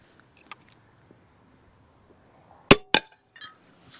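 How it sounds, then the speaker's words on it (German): A bodkin arrowhead striking a frying pan gives two sharp metallic clangs in quick succession, loud and close against near silence, followed by a fainter rattling ring. "dann einen Botkin in die Pfanne"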